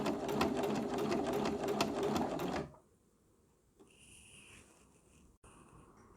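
A sewing machine stitching a straight seam at a steady, fast rhythmic whir for a few seconds, then stopping, followed by quiet room tone with a couple of faint clicks.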